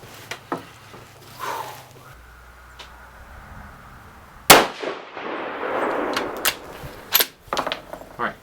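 A single sharp rifle shot from a 6mm ARC rifle loaded with 87gr Hornady V-Max bullets and CFE223 powder, a loud crack at a range followed by fainter clicks, clanks and handling noises.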